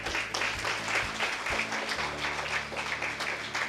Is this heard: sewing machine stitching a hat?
no